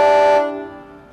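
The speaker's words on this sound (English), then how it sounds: "Custom train horn." A custom train horn mounted under a truck bumper blasts one loud, harmonically rich chord for about half a second, then cuts off and rings away quickly into the surroundings.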